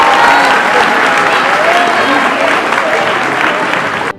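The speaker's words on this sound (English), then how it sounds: "I really need to give him a round of applause." An audience at a middle school graduation ceremony breaks into loud, sustained applause, a dense wash of clapping from a large crowd that carries on steadily before cutting off abruptly.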